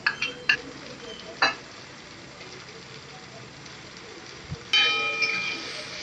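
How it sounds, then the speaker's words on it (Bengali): Ginger garlic paste stirred into frying onions for a mutton liver curry: a low sizzle under a few sharp clinks and scrapes of a spoon against the pan, with a louder burst of frying near the end. "আদা রসুনটা দিয়ে ভালো করে নাড়াচাড়া করে নিচ্ছি যতক্ষণ না রসুনের কাঁচা গন্ধটা চলে যায়।"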